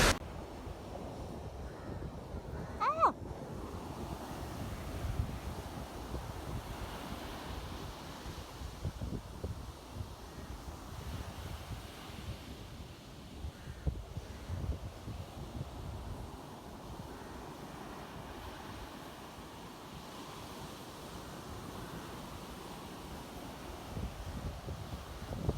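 Sea waves wash onto a beach beside a sea turtle conservation centre near Galle, a steady broadband surf roar mixed with wind buffeting the microphone, continuous and moderately loud with no talk.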